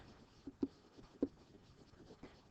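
Pen or pencil writing on paper during a math lesson, faint scratchy strokes with a few sharper taps, quiet and close with no talking.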